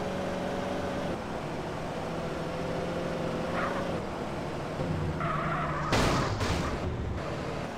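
A car with blown tires skids in a roleplay driving game. Its engine drones continuously, with sharp tire squeals and a loud burst of screeching near the end.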